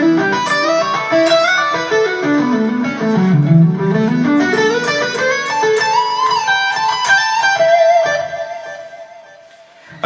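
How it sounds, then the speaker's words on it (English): Electric guitar runs a fast fusion legato lick through effects, smooth flowing arpeggio lines rising and falling at steady volume for about eight seconds before fading out at the end. "lick 2 in isolation should sound something like this"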